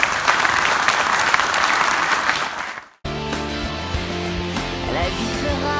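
Audience applause at a Loire Valley show fills the first three seconds with dense, steady clapping, then cuts abruptly to music, leaving a sharp break midway.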